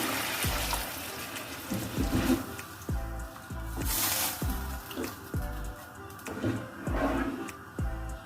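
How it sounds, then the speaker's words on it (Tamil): Water from a tumbler goes into simmering tamarind kuzhambu for paruppu urundai kulambu, giving quiet splashing and bubbling with repeated soft clinks and knocks of a vessel or spoon, close by and faint. "இதில் ஒரு டம்ளர் அளவு தண்ணி ஊற்றிடுறேன்."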